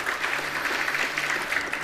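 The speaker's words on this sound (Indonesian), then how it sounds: "Beri tepuk tangan untuk kebenaran ini." Short burst of congregational applause during a church worship service, fairly faint and even, a steady patter of many hands with no voices standing out.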